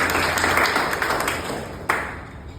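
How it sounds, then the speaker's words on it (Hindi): Audience bursts into loud applause for the principal, dense clapping filling the room and slowly tapering, with one sharp clap standing out near the end. "तो एक बार जोरदार तालियां मैडम के लिए"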